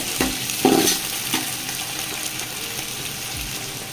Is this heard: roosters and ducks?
no